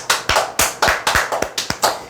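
A small seminar audience claps in sharp, evenly spaced beats, about ten distinct claps in quick rhythm, close and fairly loud with no talking over them.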